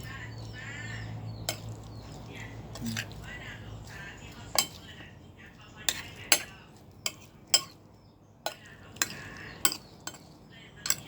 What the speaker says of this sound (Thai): คนพริกให้มันทั่วก่อน